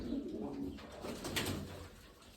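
Pigeons cooing in a loft, soft throaty rolling calls close by over a dull room murmur, continuous for a couple of seconds with no talk.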